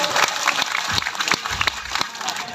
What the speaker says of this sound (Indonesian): Tepuk tangan yang gemuruh buat